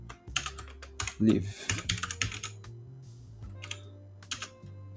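Quick clusters of keystrokes on a computer keyboard, close and uneven, with a brief word spoken partway through.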